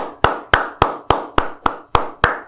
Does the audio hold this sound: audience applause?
yes